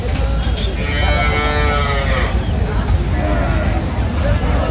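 Dairy cow mooing loudly and long at a crowded cattle market in Aftabganj, one drawn-out moo standing over a constant babble of people talking nearby.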